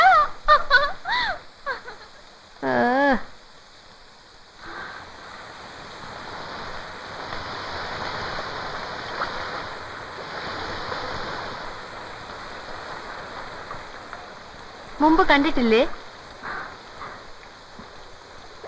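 Steady rain hisses in the background for a long stretch, while people speak briefly at the start and again near the end.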